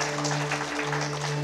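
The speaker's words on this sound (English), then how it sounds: "You can clap for her, too." Applause from a church congregation welcoming a guest's wife, a steady dense patter of many hands clapping close by with a low hum underneath, no speech.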